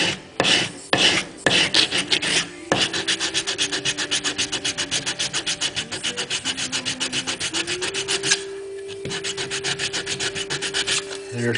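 A sanding block rubs back and forth across a trimmed slide guide to bring it flush with the body, a close, steady rasping stroke repeated rhythmically many times, briefly pausing between passes.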